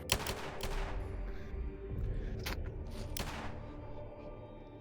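A coordinated volley of gunfire erupts on command in a video game roleplay, several sharp overlapping shots cracking in a ragged burst at the start, followed by a few scattered later shots over low rumbling background noise.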